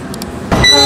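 A CC 06 locomotive horn in a train simulator sounds in one loud sustained blast that starts abruptly about halfway in, preceded by two faint short tones.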